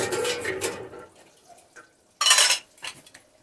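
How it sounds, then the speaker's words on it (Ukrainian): Metal jar lids boiled in water are lifted out of a pot, clinking against each other and the pan in a few short, close bursts with water dripping in between. "Кришечки я прокип'ятила, витягую їх, просто у воді прокип'ятила."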